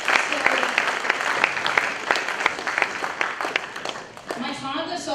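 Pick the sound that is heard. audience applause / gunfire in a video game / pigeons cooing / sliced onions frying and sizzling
audience applause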